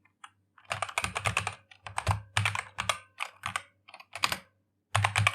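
Keys clatter on a computer keyboard in quick bursts of typing, broken by short pauses, close and fairly quiet, with no voices.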